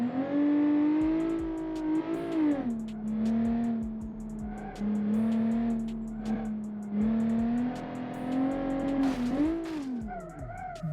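A 1990s police car accelerating hard at full throttle: a loud, close engine holds a steady strained note with repeated gear-shift dips and rises, ending in a sharp rev and fall.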